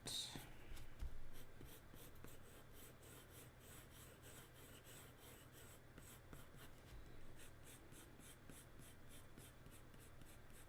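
A graphite pencil scratches steadily across paper while shading realistic hair. The strokes are faint, close and quick, with a short rhythmic burst of hatching partway through, and no voices.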